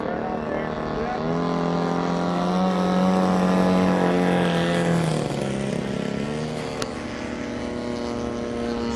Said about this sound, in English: we got three planes in there